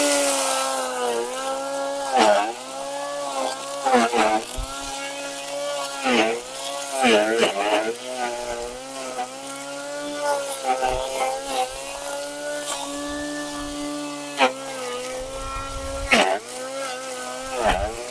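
A cordless 20V grass trimmer cuts grass around an apple tree in an orchard, its motor whine running steadily and close, dipping and surging as the line meets grass, with no talk.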